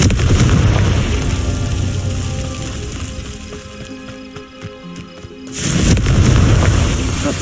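A Confringo spell explodes in Hogwarts Legacy: a loud, deep rumbling blast that slowly fades, then a second heavy burst booms in near the end.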